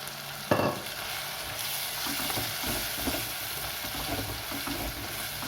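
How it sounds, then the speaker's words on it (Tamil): Bitter gourd pieces fry in hot oil in a pan with a steady, close sizzle, a sharp clatter near the start as they go in, then stirring scrapes throughout. "இந்த எண்ணெயிலே சேர்த்து திருப்பி ஒரு 5 மினிட்ஸ் வந்து குக் பண்ணணும் மூடி வச்சு"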